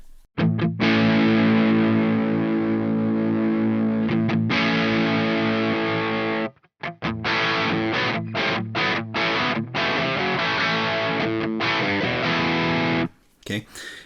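An electric guitar runs through a Tweed Drive overdrive pedal, playing loud, gritty chords and sustained notes with a couple of brief pauses and a short stop near the end.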